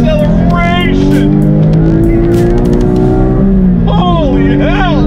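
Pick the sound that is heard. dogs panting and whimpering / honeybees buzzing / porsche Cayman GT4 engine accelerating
porsche Cayman GT4 engine accelerating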